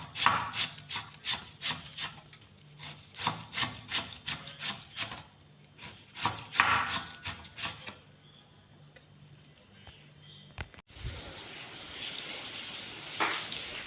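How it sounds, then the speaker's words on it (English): A very sharp knife slices afang leaves for Nigerian afang soup on a board, giving a regular series of close, crisp chopping strokes in two bursts, then a rougher scraping and rustling as the pieces are gathered. "I finished cutting the afang leaves."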